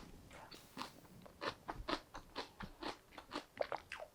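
Close, crisp crunching as someone chews a seasoned napa cabbage salad: about ten quick, regular bites in a steady rhythm, alone and quiet.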